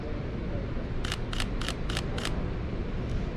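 A camera shutter fires five times in a quick, even burst at slow shutter speed during airport street photography, with a fainter sixth click after a pause, all over a steady background hum.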